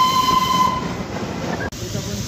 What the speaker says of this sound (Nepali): छुकछुके रेल छ है